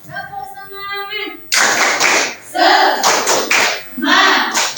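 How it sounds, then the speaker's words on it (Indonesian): Students in an Indonesian classroom perform a rhythmic spirit clap, a burst of loud, sharp group claps following a lone voice calling out, with chanting voices mixed in. "Sekali lagi, tepuk semangat."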